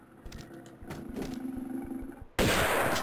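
Gunshots in a Tomb Raider game while fighting pumas or snow leopards: a quick series of sharp shots, then a loud burst of noise that cuts in abruptly near the end.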